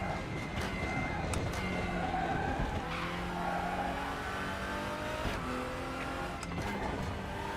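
A race car in a WTCR touring car racing game at the Nurburgring GP circuit, its engine droning steadily with harmonic pitch shifts as it drops a gear, accompanied by tire skidding and squeal, loud and continuous throughout.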